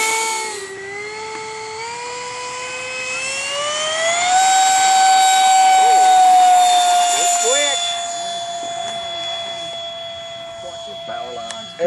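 An eFlite BAE Hawk electric ducted fan RC jet takes off with a loud, piercing whine that climbs in pitch and then holds steady, while people talk nearby.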